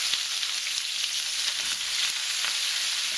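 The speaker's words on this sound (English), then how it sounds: "Our pan is hot, so I'm going to add my cabbage" Torn cabbage for Taiwanese cabbage with bacon hits a hot pan, producing a bright, crackling sizzle that stays even and close for a few seconds, with faint stirring ticks.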